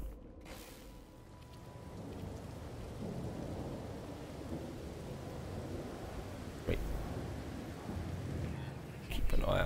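Thunderstorm in No Man's Sky, a dense, steady roar of rain with low rumbling thunder, and a couple of sharper cracks and thumps toward the end.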